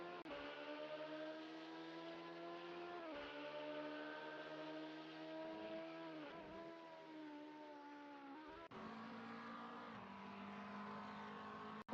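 A GT3 race car in a racing video game holds a loud, steady, high-pitched engine whine that climbs and drops sharply through several gear shifts, continuous from start to finish with no talking.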